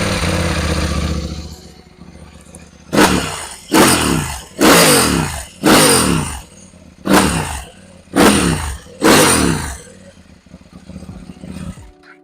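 A KTM Duke 890R motorcycle engine idles close by, then roars through seven sharp, evenly spaced throttle blips of rising revs, each dropping back to a rumbling idle before the engine settles.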